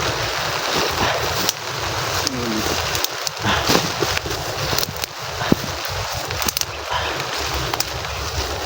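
Rain falls outdoors on a trek toward a mountain camp, a dense steady hiss with gusting wind noise on the microphone. Faint voices and scattered knocks come through under it.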